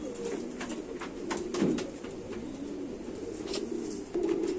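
Pure Cheena pigeons, a Sialkoti-type breeding pair, coo in low steady murmurs close by, with a few faint chirps and brief rustles over soft background noise.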